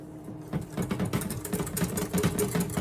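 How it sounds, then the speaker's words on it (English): A motor whirs and chops unevenly at close range, a blender churning thick clafoutis batter, with rhythmic pulsing and no voices. "Blend it another 5 or 10 seconds."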